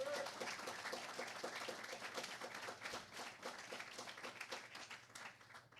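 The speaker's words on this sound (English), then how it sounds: "I want to give Brother Eric and all who presented another round of applause." A room of people claps together in dense, sustained applause that stays fairly even throughout, heard at a moderate distance and somewhat quiet.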